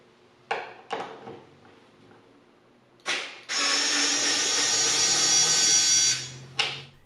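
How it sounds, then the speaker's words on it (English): A Skil 4-volt electric screwdriver backing out screws set with a torque wrench: a few short clicks, then a sustained whirring motor run of about three seconds that ends with one more brief burst, close and loud with no talking. "Let's see if the Skil 4-volt screwdriver can remove them."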